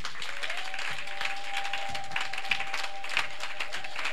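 Church congregation at a night vigil celebration clapping together, a steady wash of applause filling the room, with a faint sustained tone running beneath it.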